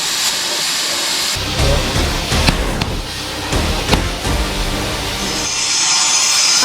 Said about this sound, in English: I'm cutting it. Using the oxy today.